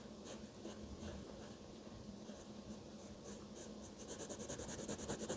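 Pencil or marker scratches steadily on paper while a turkey is drawn and coloured in, a faint, continuous rubbing with quicker rhythmic strokes near the end.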